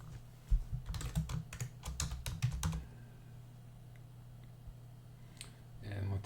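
Close keystrokes on a computer keyboard as a command is typed at a terminal for AVS-4000 software-defined radio software, a quick burst of clicks over a steady low hum, then quieter hum alone.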